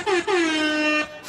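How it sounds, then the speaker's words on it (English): A single long air horn blast, loud and brassy, with a brief stutter at the start, then cutting off abruptly. "That's all you can do with the air horn?"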